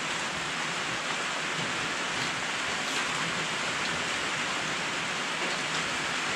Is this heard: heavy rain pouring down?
yes